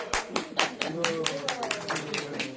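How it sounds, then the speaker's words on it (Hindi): Scattered, uneven hand claps from a small gathering at a devotional Hari Katha event in Australia, a handful of sharp claps spread through the moment while people talk over them close by. "ताली बजाओ।"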